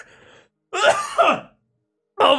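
A faint rasp, then a couple of harsh, throaty coughs close to the listener, with a short pause between bursts.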